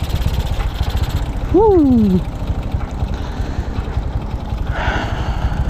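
Motorcycle engine idling at a KTM dealership, a steady low throb running throughout while a rider's voice gives a brief exclamation over it.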